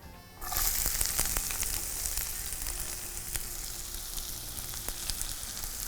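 Onions dropped into hot oil with mustard seeds, a sudden loud sizzle that starts after a brief quieter moment and keeps up as steady close frying crackle with occasional stirring.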